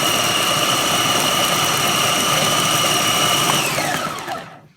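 A Panasonic MK-F800 1000-watt food processor on full power chops dates and nuts with a loud, steady motor whir and high whine that holds evenly, then spins down and fades away at the end.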